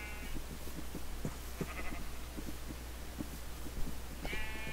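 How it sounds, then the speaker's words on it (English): Blocky sheep in the video game Minecraft bleat a few times over a steady low hum, with no voices. "You are going to be my brown sheep."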